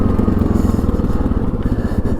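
A 2002 Yamaha Grizzly 660 ATV engine under way on a ride, a loud steady low throbbing rumble with some rattling and scraping, continuous throughout with no voices.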